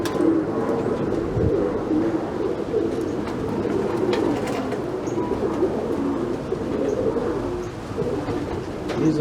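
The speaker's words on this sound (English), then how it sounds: "These are also crested cap pigeons." Crested cap tippler pigeons coo in soft, overlapping rolls that sound like a whole loft at once, with a constant murmur of wingbeats and bird noise and a few faint chirps.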